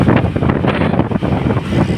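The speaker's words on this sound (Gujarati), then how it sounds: "વાવાઝોડું ખૂબ જ ચાલુ છે" Strong storm wind in Ahmedabad roars and buffets the microphone in heavy gusts, a rough, continuous rumble with no voices.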